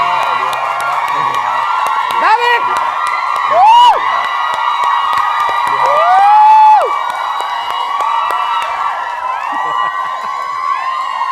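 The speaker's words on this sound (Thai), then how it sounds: "ปรบมือได้ครับป้อนภูวินครับผม" A studio audience of fans for Pond and Phuwin on a Thai talk show cheers and whoops loudly, with shrill rising squeals over steady crowd noise, while a host's voice speaks over the din.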